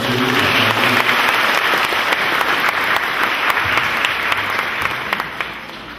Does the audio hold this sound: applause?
yes